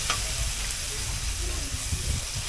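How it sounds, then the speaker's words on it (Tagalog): Tomatoes sizzling and simmering in a pan over medium heat for chicken pochero, a steady close hiss with faint stirring, no talk. "Ayan, isi-shimmer natin ang kamatis."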